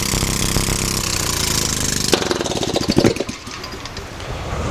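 A hydrogen-fuelled engine runs loudly and steadily, then a burst of sharp popping and crackling marks hydrogen popping back before the noise drops to a lower, rougher running sound.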